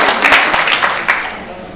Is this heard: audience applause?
yes